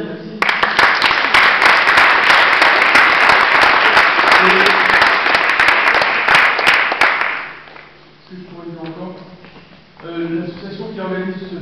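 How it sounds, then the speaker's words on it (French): An audience applauds the organisers at a comedy festival awards ceremony, a dense burst of clapping lasting about seven seconds before fading, followed by someone talking. "Merci aux organisateurs, vous pouvez les applaudir"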